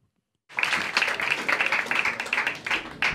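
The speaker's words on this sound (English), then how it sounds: "Oh, thanks, guys, for almost clapping until I made it to the stage." Applause breaks out suddenly in a New York comedy club as a comedian walks onto the stage, dense clapping from a seated audience that swells, then thins and wavers for several seconds.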